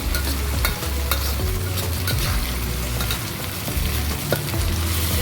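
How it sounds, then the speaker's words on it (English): Onions fry in a pan for Malaysian-style chicken peratal, a steady close sizzle running throughout with irregular scraping and stirring strokes, no voices. "Alright, so I want this to fry as well. Turn slightly brown"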